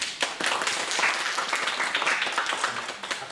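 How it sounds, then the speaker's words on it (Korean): An audience at a university public hearing claps in a moderate round of applause, a brief, busy patter of many hands that rises quickly and tapers off after a few seconds. "큰 박수를 부탁드리겠습니다."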